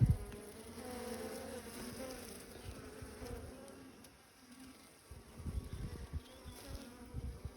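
Honey bees hum and buzz in an open beehive, a steady, faint swarm drone with soft handling rustles and knocks underneath.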